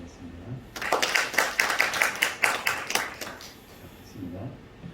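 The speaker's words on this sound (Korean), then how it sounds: "교회 앞에 인사할 때 박수로 맞아주시기 바랍니다." A church congregation clapping in welcome during a Sunday service, a short burst of rhythmic, fairly soft claps lasting a few seconds between quiet moments, with faint talk before and after.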